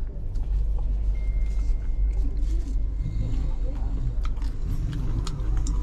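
Moving passenger train on a Delhi to Rameswaram run, heard from inside: a constant low rumble with faint rattling and clicks, while people talk quietly nearby.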